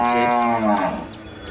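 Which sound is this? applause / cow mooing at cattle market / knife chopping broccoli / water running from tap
cow mooing at cattle market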